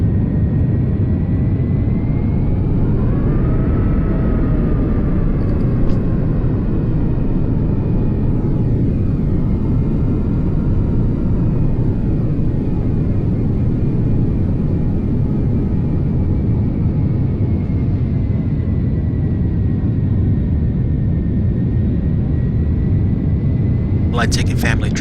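Flight-simulator airliner engines roar through a takeoff, a dense, steady, loud rumble with faint rising and falling whine across the whole stretch.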